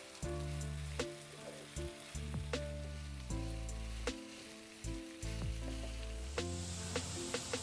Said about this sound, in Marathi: व्यवस्थित परतून घेऊ तूप आणि मिरची अशी छानपैकी बटाट्याला लागली पाहिजे